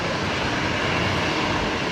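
Fokker airliner taxiing on a taxiway at Brisbane Airport toward the new runway, a steady, dense engine roar holding at even loudness throughout with no talk over it.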